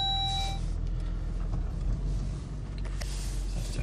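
A car drives a lap outdoors, its engine a steady low rumble close by with road noise, after a brief high beeping chime at the start.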